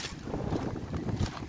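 Steady wind buffets the microphone in a continuous low rumble, with no voices.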